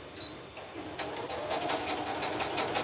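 A domestic sewing machine running a long basting stitch across a crumb crazy quilt block, a steady fast whirring hum with faint rhythmic needle clatter, close and moderately quiet, no talk.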